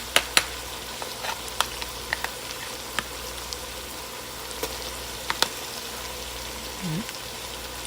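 Tomato paste is spooned into a hot pan, where it gives a faint, steady sizzle broken by small scattered clicks and pops, with no voices.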